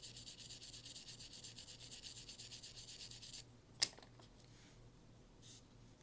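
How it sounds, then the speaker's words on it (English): Carbon is gently scraped off a Surefire suppressor with a hand tool: a quiet, steady rhythmic rasping of metal that stops, followed by a single sharp click and faint handling noises. "I'm just gently scraping."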